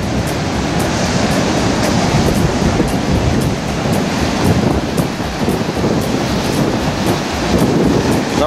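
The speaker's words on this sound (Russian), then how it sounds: "Ох, какая волна." Ocean surf breaks on the shore on a cold morning by the water, a loud, continuous roar of waves with heavy wind buffeting the microphone and no talking.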